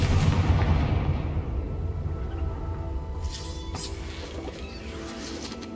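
A Confringo blasting spell in Hogwarts Legacy goes off as a loud booming crash at the start, then rumbles and fades over several seconds, with a few sharp crackles near the end.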